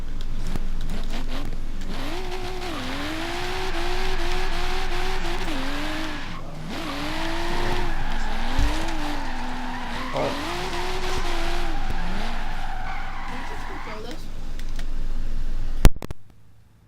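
In Forza Horizon 3, a car drifts at high speed with long, wavering tire squeals over a droning, rising and falling engine, several sustained slides in a row, loud and close, ending in an abrupt knock.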